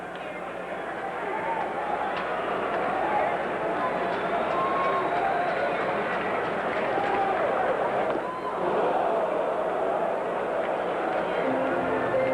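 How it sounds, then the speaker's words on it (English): Crowd at a 1986 Texas Rangers versus Minnesota Twins baseball game lets out a sustained ooh, a broad steady roar of many voices filling the stadium, with a commentator's voice running over it. "You hear the oohs from the crowd?"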